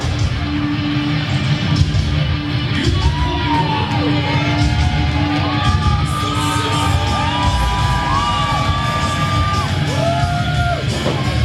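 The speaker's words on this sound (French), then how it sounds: "les doigts d'honneur dans les airs et le public est en délire" A wrestling crowd at a provincial championship belt event roars continuously, with yells, whoops and whistles rising over a dense, loud mass of cheering throughout.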